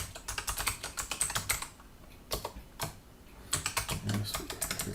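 Computer keyboard typing while logging into a shell environment, with quick bursts of keystrokes separated by short pauses, close and fairly quiet, no talking.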